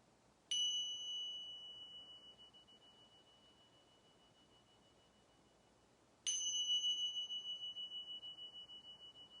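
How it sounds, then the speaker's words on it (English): Small cymbals rung together twice, each strike a bright, pure ringing tone that sustains and slowly fades, clean and alone in a quiet room, the second strike about six seconds after the first. "Now I'm going to ring the cymbals together."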